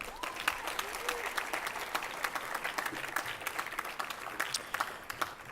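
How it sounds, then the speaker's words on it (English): Applause for three honorees at an environmental leadership awards ceremony, a sustained round of clapping from the audience that is fairly soft and even, with a few louder individual claps standing out near the end. "Let's have another round of applause for our 3 honorees tonight"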